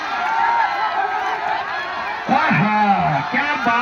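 A crowd of spectators cheers and whoops at a wrestling dangal event, with loud overlapping voices swelling from the midpoint onward to fill the space.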